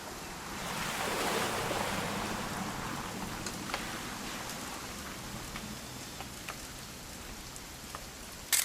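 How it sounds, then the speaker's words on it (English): Rain falls in the video game What Remains of Edith Finch, a soft continuous hiss with scattered ticking drops and no talk. "It's gonna rain the whole weekend, isn't it?"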